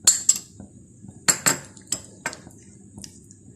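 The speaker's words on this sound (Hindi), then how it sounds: "चॉकलेट को क्रीम के साथ अच्छी तरह मिक्स कर लेते हैं" A spoon stirs chocolate with cream in a bowl for a cake, giving scattered light metallic clinks and scrapes against the dish, some sharp and close, with quiet gaps between strokes.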